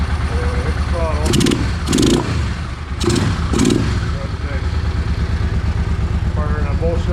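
A Suzuki Marauder 800 motorcycle engine idles with a loud, steady rumble while the throttle is blipped several times in short bursts, each rev rising sharply before dropping back to idle.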